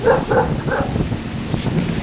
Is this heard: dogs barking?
yes